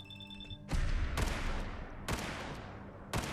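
Trail Carbine gunshots in Fallout 4, a faint tone fading out before three loud sharp blasts spaced about a second apart, each followed by a rumbling decay, with a fourth shot starting at the end.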